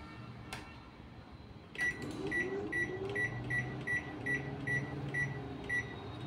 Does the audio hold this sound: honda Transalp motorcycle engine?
no